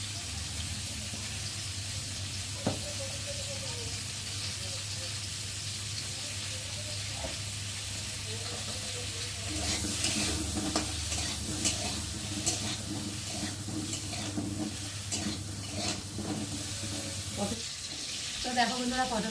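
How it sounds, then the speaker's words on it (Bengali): Pointed gourd (potol) fries in oil in a pan, a steady sizzle that turns busier and noisier midway as the pieces are stirred, with scraping and clatter. "পটলগুলো ভাজা হয়ে গেছে। আর এখন আমি পটলগুলোকে তুলে নিই।"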